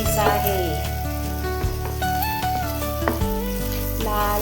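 Ivy gourd sizzles with red chili powder as it is sautéed in a pan, a continuous frying hiss set under steady background music.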